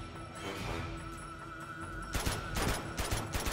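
Rapid automatic gunfire from a firefight against a soldier in Uncharted 2, a quick burst of sharp overlapping shots over a busy game background, loud and close, with the firing thickening toward the end.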